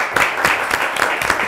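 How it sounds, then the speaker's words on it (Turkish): Studio audience applauding a game show's winning contestant, a steady wash of claps with a few louder bursts, fairly close and without talk over it. "Bir alkışı daha hak etti bence."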